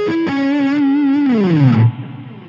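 An electric guitar sweep-picks a seventh-chord arpeggio through distortion, chorus and effects units, the notes rolling quickly in sequence and then sliding down, fading out with a short bit of ringing reverb.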